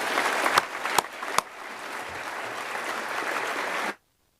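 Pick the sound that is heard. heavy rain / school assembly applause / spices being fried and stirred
school assembly applause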